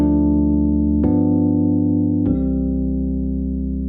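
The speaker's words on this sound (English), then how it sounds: "So this chord progression sounds something like this." A ii-V-I chord progression in C, three sustained chords changing at roughly one-second intervals, each struck cleanly and left ringing, played alone with no voices.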